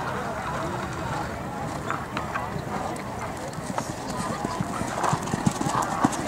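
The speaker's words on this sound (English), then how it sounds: "Nice canter." A horse canters around a show ring during a flat class, faint rhythmic hoofbeats on footing under a distant announcer's voice and ambient arena noise.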